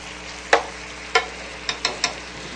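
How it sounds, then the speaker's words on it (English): Spoon stirring cooked vegetables in a pan, five sharp scraping clacks against the pan, the later three quicker together, close and fairly loud with no voices. "now give that a quick stir"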